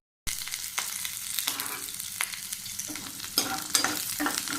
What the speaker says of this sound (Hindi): इधर ये मैंने सरसों का तेल चढ़ाया, इसमें जीरा हींग का तड़का लगाया